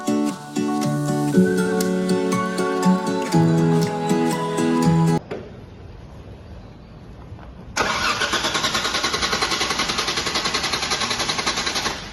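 A Mitsubishi Pajero that has suddenly stopped working on a road trip in South Africa tries to start: sustained whining tones, then a lull, then a loud, rapid, rattling cranking that keeps pulsing to the end.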